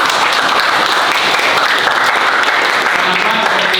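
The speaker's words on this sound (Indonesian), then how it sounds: "Tepuk tangan dulu buat temannya" Steady, loud applause from a classroom group fills the whole stretch, dense and continuous clapping without pause.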